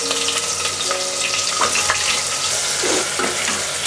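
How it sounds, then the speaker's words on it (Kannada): Chopped onions hit hot oil with whole spices while cooking veg soya pulao, a loud, dense, continuous sizzle and crackle with a few soft stirring scrapes, close and without talk. "ಹೆಚ್ಚಿಟ್ಕೊಂಡಿರೋ ಈರುಳ್ಳಿ ಹಾಕ್ಕೊಳ್ತಾ ಇದ್ದೀನಿ."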